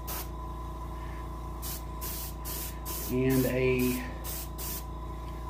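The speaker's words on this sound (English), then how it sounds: "So got bright yellow. Adjust your spray real good." A paint sprayer hisses as bright yellow is sprayed onto a brown bullhead catfish taxidermy mount, a steady airy spray running under faint workshop noise with a brief tonal squeal midway.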